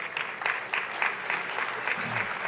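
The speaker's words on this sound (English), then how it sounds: "Let's give John a big round of applause." An audience at an industry awards ceremony applauds warmly, a continuous moderate wash of clapping with a few louder claps poking through.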